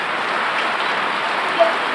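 Steady rain falls during a downpour at a motorcycle workshop, where an NMAX scooter is having a crash guard and bracket fitted; a continuous, even hiss with no talk over it.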